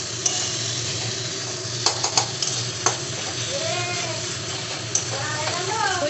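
Spices being sautéed and stirred in a pan on a home stove, a steady sizzle with a few sharp clinks of the spoon against the pan, and a voice speaking over the cooking.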